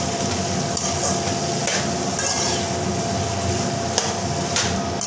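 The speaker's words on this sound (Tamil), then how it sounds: "இது ஒரு 2 நிமிஷம் நல்லா வதங்கட்டுங்க." Tomato and onion sautéing in a pan while being stirred, a steady soft sizzle with occasional scraping and tapping of the spoon against the pan, close and continuous.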